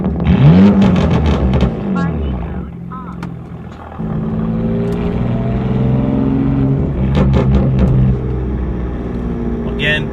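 A BMW S55 engine with a single midpipe exhaust drones loudly while driving, deep burbling pops and revs rising and falling, with a voice talking over it at times.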